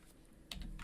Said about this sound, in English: then type this command,